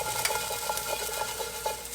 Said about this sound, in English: Stir frequently until the broccoli is bright green and tender